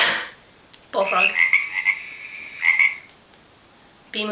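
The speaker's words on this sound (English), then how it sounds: "Bullfrog." A bullfrog croaking ringtone plays: a loud, deep, throaty croak, then a second croak after a short pause, fairly close.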